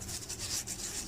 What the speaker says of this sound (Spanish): uno no le pasa una lijita para sacarle todo lo que haya venido de la fábrica